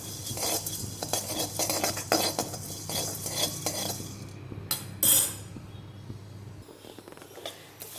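Black pepper and jeera (cumin seeds) dry-roast in a pan, stirred with a utensil that scrapes and clinks against the metal in irregular bursts, with a sharper clank midway, then quieter scraping.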